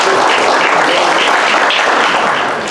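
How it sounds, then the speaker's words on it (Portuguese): An audience applauds at a cultural event, with dense, continuous clapping that fades slightly at the end. "Vamos bater uma salva de palmas para o nosso..."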